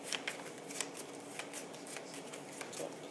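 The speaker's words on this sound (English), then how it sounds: "mix the cards, tell me when to stop shuffling" A deck of cards is shuffled by hand in a steady run of quick riffling bursts, fairly faint and close, with no talking over it.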